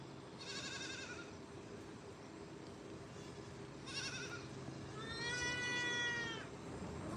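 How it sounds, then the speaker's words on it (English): A farm goat, kept alongside pigs, lets out three nasal bleats, two shorter calls followed by a longer wavering one, fairly close over a quiet background. "That goat is right here"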